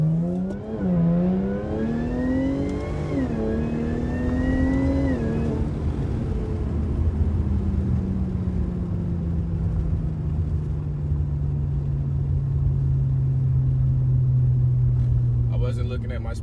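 A car on a full-throttle pull, its engine climbing in pitch through two gears, then settling into a long, steady drone as it keeps accelerating, loud and close throughout.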